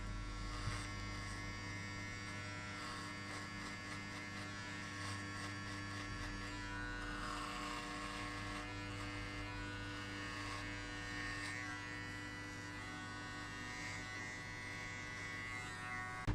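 Electric hair clippers buzz steadily while cutting a high skin fade at a barbershop. A faint, continuous motor whine holds close by, its tone shifting slightly as the blades move through hair.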